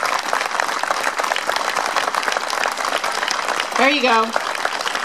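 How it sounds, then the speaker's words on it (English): An audience at a 15th anniversary 9/11 remembrance gives a sustained round of applause, a steady roll of many hands that is briefly overlapped by a man's short remark near the end. "if you give one more round of applause for opening their hearts to us."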